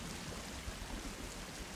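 Steady rain falls in the survival video game Sons of the Forest, a soft, even hiss with no voices and no distinct drops standing out.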